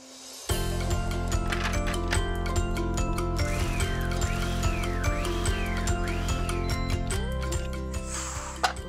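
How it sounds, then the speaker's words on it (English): Food processor blitzing corn kernels into a puree, a steady loud mechanical whir with rattling and a pitch shift near the end before it winds down. "So I'm going to place all of these corn kernels into a food processor, and I'm not going to add anything else at this stage."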